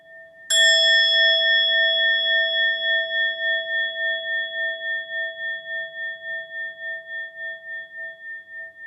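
One clear strike of a meditation bell, its bright tone ringing out and slowly fading with a gentle, wavering pulse in a quiet room.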